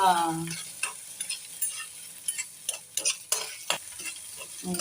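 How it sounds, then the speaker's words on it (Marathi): Spices sautéing in hot oil in a home kitchen as they are stirred: a steady close sizzle punctuated by repeated scraping, clicking strokes of the spoon against the pan. "हे असं छान तेलामध्ये परतून घ्यायचं ना."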